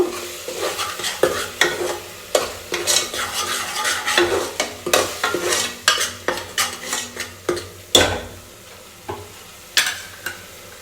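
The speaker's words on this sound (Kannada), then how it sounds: "ಈ ಪೇಸ್ಟ್ನ ಸ್ವಲ್ಪ ಎಣ್ಣೆಯಲ್ಲಿ ಚೆನ್ನಾಗಿ ಬಾಡಿಸ್ಕೋಬೇಕು ಹಂಗಂದ್ರೆ ಫ್ರೈ ಮಾಡ್ಕೋಬೇಕು" Spice paste frying in oil in a pan for a sprouted horse gram curry, with loud, close stirring strokes scraping the pan in an uneven rhythm over a steady sizzle.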